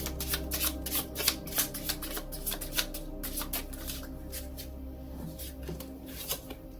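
Tarot cards shuffled in a continuous run of quick, papery riffles and flutters, close and fairly soft, with no talking.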